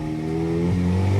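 An Audi S3 with an aftermarket exhaust revs hard in dynamic mode in a brief, loud burst, its deep exhaust note rising in pitch close by.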